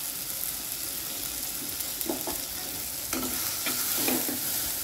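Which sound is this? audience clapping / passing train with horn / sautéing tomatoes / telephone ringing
sautéing tomatoes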